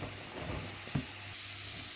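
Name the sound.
onion and carrot frying in pan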